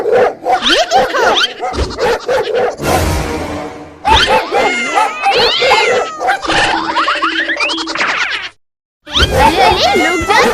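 Cats meow repeatedly in a busy, cluttered mix with dog barks and cartoonish sound effects, loud and close, with a brief silence near the end.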